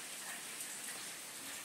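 Steady rain falls in an even, hissing wash with faint scattered drops, continuous and moderately distant, no voices.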